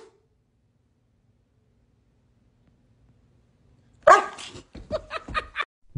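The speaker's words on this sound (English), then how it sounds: "bark at your dog" After a long near-silent stretch, a pet dog lets out a short burst of close, sharp barks and yips in the final two seconds.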